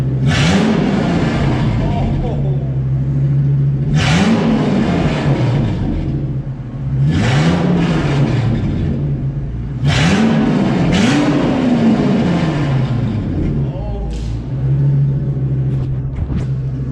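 Loud Ford Excursion engine revs repeatedly in sharp bursts through a straight-piped exhaust with the catalytic converter removed, a raw, crackling roar rising and falling about every three seconds, with a low idle rumble between revs.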